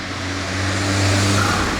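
A turbocharged car accelerates nearby on a street in Japan, its steady engine drone rising in a short, loud, continuous pass.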